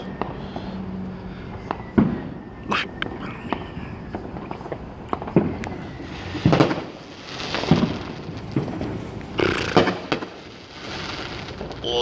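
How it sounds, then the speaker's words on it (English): Scattered Fourth of July fireworks bursting at irregular intervals, sharp cracks and booms with crackling tails, some near and loud, others fainter, over a murmuring background. "The fireworks."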